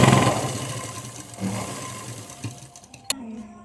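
A sewing machine stitches a seam on a Punjabi dress, running in a steady mechanical whir with brief pauses and a sharp click near the end, fairly close and moderately quiet.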